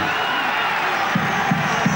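A football stadium crowd roars and cheers after a Basel goal in a Neuchâtel Xamax versus FC Basel match, a loud sustained wash of voices with a commentator talking over it.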